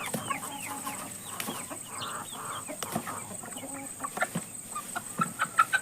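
Chickens cluck and chatter on a farm, with close, repeated clucks and short squawks that grow busier and louder toward the end.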